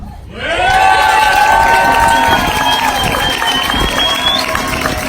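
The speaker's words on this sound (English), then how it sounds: "Give her another round of applause." Protest crowd outside the GEO Group headquarters in Detroit applauds and cheers loudly, with shouts and whoops over continuous clapping that swells early and stays strong.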